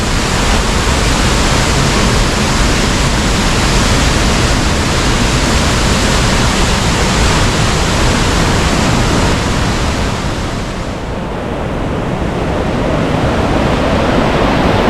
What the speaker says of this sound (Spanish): Mirad cómo va de agua.